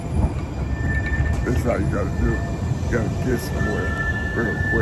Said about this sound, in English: That's the train. I'm about to get in.